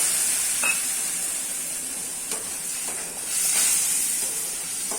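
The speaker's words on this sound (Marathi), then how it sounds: "घालून घेऊया याच्यामध्ये रव्यामध्ये आणि मिक्स करून घेऊया" Semolina (rava) is stirred into hot water for a mango sheera, giving a steady hiss and sizzle with faint scraping strokes, close and continuous, with no talk.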